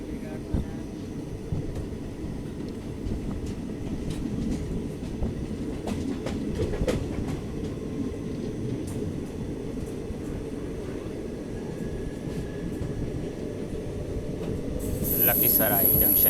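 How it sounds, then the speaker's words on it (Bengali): Bagh Express (13019) pulling out of Lakhisarai Junction, a steady low rumble of the train rolling along with a faint squeal near the end; the rumble grows slightly louder toward the close. "আর আমরা এখন ডিপার্চার করছি হচ্ছে লকিসরাই জংশন রেলওয়ে স্টেশন।"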